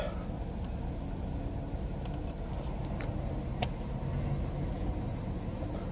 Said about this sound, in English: so the car is still running